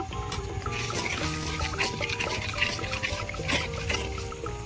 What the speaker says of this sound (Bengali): জল দিয়েছি